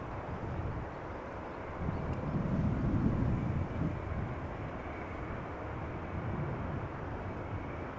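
A Boeing 747 approaches Amsterdam Schiphol Airport, a faint, distant jet roar that swells a little midway and then settles into a low steady rumble with some wind noise and no voices.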